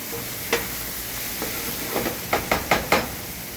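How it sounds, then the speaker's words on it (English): Garlic and onions sautéing in a pan, with a steady soft sizzle broken by several quick taps and scrapes of a stirring utensil, close and fairly quiet. "Let this cook for about a minute or two, let some of the flavor start to come out of the garlic and onions."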